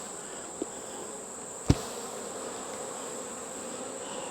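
Honeybees buzz off a shaken hive inner cover, a steady high hum swarming close by, broken by a soft tap and one sharp thump.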